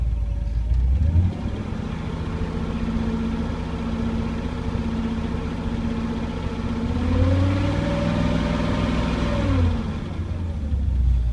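A carbureted car engine idles steadily, then its revs rise and fall smoothly a couple of times as the throttle is blipped during carburetor tuning, the tone climbing and settling back; close and continuous, with no talking.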